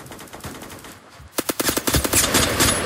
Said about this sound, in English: I have the AK-12 right now.